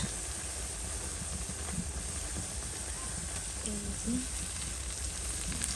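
Garlic and cumin paste fries in a pan for khichuri, giving a steady, moderate hiss of sizzling oil with a few faint background clinks, and no talking.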